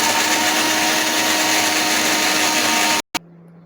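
A kitchen mixer grinder whirs loudly and steadily as it purees tomato pieces into paste, then cuts off abruptly, leaving a faint low hum.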